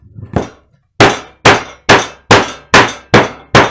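Sharp hammer blows strike the edges of a wooden frame to mark and distress it: one softer tap, a pause, then seven loud, evenly spaced hits, close and alone.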